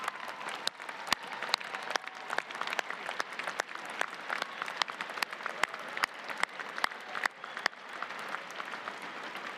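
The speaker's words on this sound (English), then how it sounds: "let's give them a round of applause for their support" Sustained applause from a commencement ceremony audience fills a large hall, a dense, even wash of many hands clapping at moderate distance with a few sharper nearby claps and no speech.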